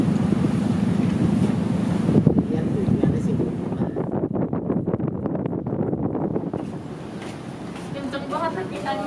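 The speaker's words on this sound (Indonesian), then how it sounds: "Kenceng banget lagi anginnya Pak di situ." Strong wind buffets the microphone at a ferry harbour on the Banyuwangi-Lombok crossing, a loud gusty rumble with surging water, while people talk throughout.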